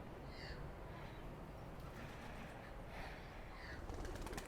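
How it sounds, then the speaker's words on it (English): Several birds, likely pigeons or doves and crows, call repeatedly on a beach during an outdoor yoga session, with chirps and caws scattered over steady wind or surf noise. "it's a bird party over here"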